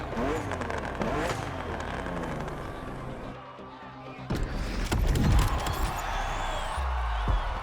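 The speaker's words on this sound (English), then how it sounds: "BMW M2 CS, a legend in the making." BMW M2 CS engine revving in a racing video game, a loud, continuous engine roar that rises and swells, dips briefly, then surges again over game music.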